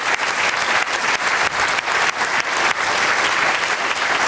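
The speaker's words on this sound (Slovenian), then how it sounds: "iskren aplavz" An audience at a local community event in Slovenia applauds in honour of volunteer firefighters, a loud, dense and sustained burst of many hands clapping that holds evenly throughout.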